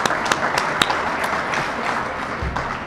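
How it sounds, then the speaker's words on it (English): Audience applause at the launch of a Chicago COVID-19 vaccination site, a steady wash of many hands clapping with a few sharper claps standing out, sustained throughout. "So a big round of applause for putting this together."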